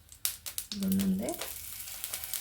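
Brinjal slices fry in plenty of oil on a tawa with a soft, quiet sizzle, a few light taps and a short tonal squeak partway through, no speech.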